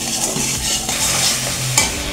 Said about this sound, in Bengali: আমি এইভাবে মশলাটা সুন্দর করে আমি কষিয়ে দেবো